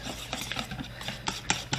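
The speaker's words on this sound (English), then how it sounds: "You see the chocolate chips slowly melting as I stir the hot cream around" A spoon stirs hot cream and melting chocolate chips for ganache, giving soft, quiet scraping and swishing strokes in an irregular rhythm, with a few sharper taps near the end.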